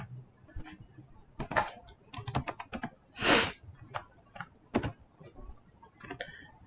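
Computer keyboard typing during a Python programming lesson, with irregular bursts of close clicky keystrokes and one longer, louder clatter midway.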